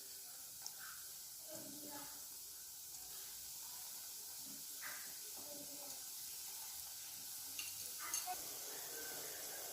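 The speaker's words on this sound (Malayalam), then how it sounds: "മീഡിയം ഹീറ്റിൽ വേണം നമുക്കിത് ഫ്രൈ ചെയ്തെടുക്കാൻ" Gulab jamun balls fry in oil over medium heat, making a faint, even hiss with soft, occasional bubbling pops, quiet and steady.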